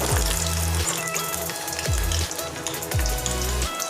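Food drops into a hot kadai and fries with a crackling, spattering sizzle, close and loud, while low rhythmic thumps repeat about once a second underneath.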